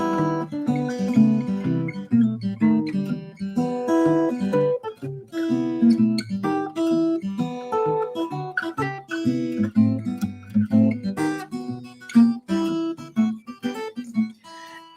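Fingerpicked guitar playing a song in a steady bluesy pattern, an alternating bass thumb under plucked melody notes, playing continuously and up close.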